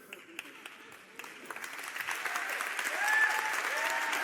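An audience at a Naukas 2021 science talk breaks into applause that begins as scattered claps and swells into steady, dense clapping, with a voice speaking over it.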